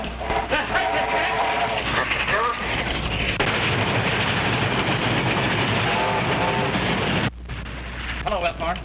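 A train rumbles past in a 1932 mystery film, a loud, steady roar that fills most of the stretch before cutting off abruptly, with voices talking before and after.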